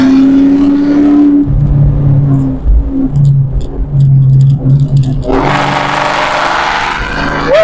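A 2004 Procharged Mustang Mach 1 revs loudly and pulls through its gears, the engine note dropping briefly at each shift before roaring back up, close and dominant with no talk over it.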